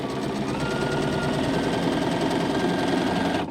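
Sewing machine stitching quilt block pieces, a fast, continuous mechanical whir with steady rapid needle clatter running for a few seconds, close and alone before stopping abruptly.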